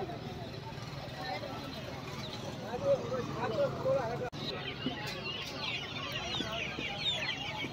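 Chickens cluck and squawk amid a busy poultry market bustle in Ponmalai, Tiruchirappalli, with people talking throughout and steady background noise.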